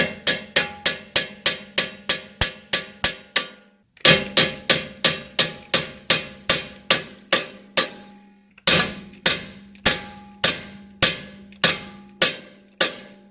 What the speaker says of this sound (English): So now I'm just going to take the hammer.